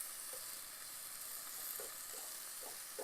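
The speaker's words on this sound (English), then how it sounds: "My salami is crispy. It's kind of popping." Salami crisping in a pan gives a soft, even sizzle with small scattered pops and crackles, steady and fairly quiet throughout.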